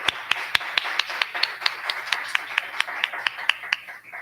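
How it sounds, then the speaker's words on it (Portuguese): Applause for an author at the close of an academic conversation session comes as a steady, evenly spaced run of sharp claps, nearly twenty in quick rhythm, close and clear. "eu vou dar salva de palmas para a nossa, né, autora, Elisete."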